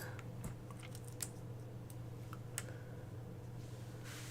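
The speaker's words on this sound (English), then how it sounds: "rocking the MS Natural 4000 keyboard" Typing on a Microsoft Natural 4000 keyboard, scattered soft key clicks at an irregular pace, faint and distant under a steady low hum.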